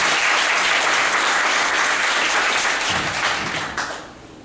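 Audience applauding a speaker's introduction at a talk, a dense, loud burst of clapping from many hands that holds steady and then fades out near the end.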